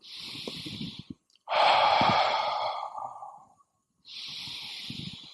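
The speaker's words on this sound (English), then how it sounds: "you have to be able to breathe deep, very deep, very deep, blow out all the air" Slow, deep breaths demonstrated for calming an anxiety attack: a breathy inhale, then a long forceful exhale blowing out all the air, followed by another inhale, close and clear with no talking.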